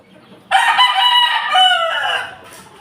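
A white Kelso chicken crows loudly and close up in a single drawn-out call that starts abruptly and trails off into a short cluck.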